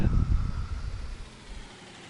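Low rumbling idle of a modded tractor engine in Farming Simulator 19, a steady close drone that eases off slightly as it continues, with no talking.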